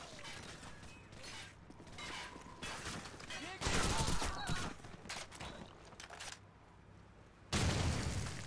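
A frag grenade detonates during a Call of Duty: Modern Warfare firefight, with loud booming bursts standing out from mechanical clatter and scattered gunfire.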